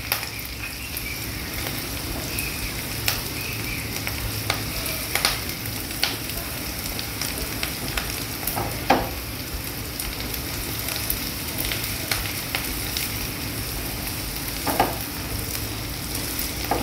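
Grated coconut stir-fried until golden for a mutton gravy crackles in a steady close sizzle, with scattered scrapes and taps from the stirring spoon throughout.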